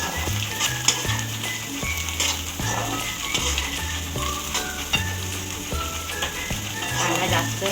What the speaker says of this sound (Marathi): आता आपण त्याच्यात टाकणार कांदा, बारीक चिरलेला कांदा. आपण आता फ्राय करून घ्यायचं.